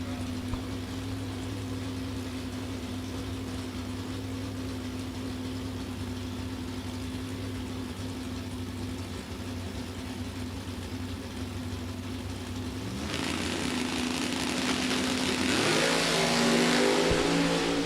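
A drag racing station wagon and a Camaro idle with steady droning engines at the start line, then surge into a loud rising roar as they launch down the strip.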